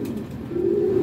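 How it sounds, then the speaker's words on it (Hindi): A pigeon gives a low, steady coo that swells slightly, close by and fairly quiet against a faint background. "ये देखिए अच्छा कबूतर है माशाल्लाह।"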